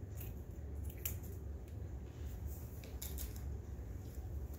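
Scissors snip through ribbon while bows are made for a Mother's Day gift box. A few faint, quick snips sit over a soft, steady background hum.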